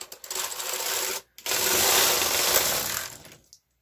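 A knitting machine carriage slides across a full row at tension 4, a steady rasping mechanical whir lasting about a second, pausing briefly, then running again for two seconds before stopping.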